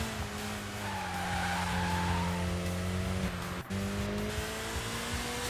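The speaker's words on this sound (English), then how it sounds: "Somehow managed to catch a bit of tail slide from a 4-wheel drive Evo." A four-wheel-drive Evo in Sega GT sliding its tail: a steady engine drone with a sustained tire squeal over it, a brief dropout near the end, then the engine note carrying on alone.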